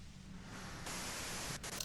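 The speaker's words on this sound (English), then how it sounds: "you can do it through the white noise" Steady hiss of white noise in the video game Disco Elysium, a flat broadband static that grows brighter and louder partway through and continues alone with no voices.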